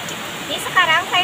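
Heavy rain pours steadily beside a river, a dense, close hiss with brief bursts of talk over it.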